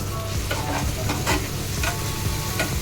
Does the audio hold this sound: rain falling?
no